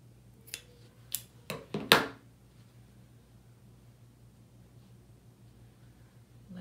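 Scissors make four or five quick crisp snips trimming a fabric flower for a quilt block, close and clear, followed by quiet room tone.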